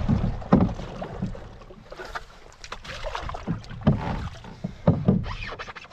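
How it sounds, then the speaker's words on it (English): Paddle strokes on an Esquif Echo canoe on a small river against a strong current in early spring, with repeated splashes and gurgles at an uneven rhythm, close and moderately loud over light wind noise. "Oh, it's definitely tricky paddling."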